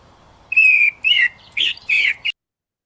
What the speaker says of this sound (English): that's a bird tweeting